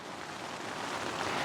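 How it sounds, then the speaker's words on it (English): Rain falls non-stop on a tent through the early morning, a dense and even patter heard from inside that holds at a steady level for the whole moment with no other sounds. "listening to the rain on the tent, it's just been non-stop all night"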